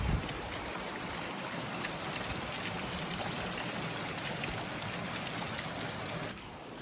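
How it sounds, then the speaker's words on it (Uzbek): The Gazak waterfall in Surxondaryo runs with very little water, giving a constant, even rushing wash that holds steady and dips slightly at the end, with no talking. "Hozir Gazak sharshara lekin juda suv kam."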